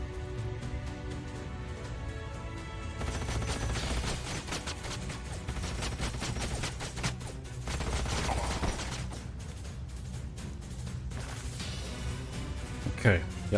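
Rapid bursts of sci-fi gunfire from the strategy game Age of Wonders: Planetfall, dense volleys of sharp crackling shots over a low battle rumble, continuing for several seconds before a final louder impact.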